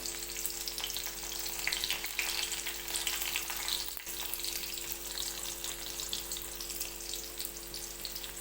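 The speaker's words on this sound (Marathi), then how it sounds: "तर आता बारीक कांदा टाकून घेतला आता तळून घेते आता कांदा चांगला तेलात" Finely chopped onion frying in oil gives a steady, close sizzling hiss that runs unbroken throughout, with no voices.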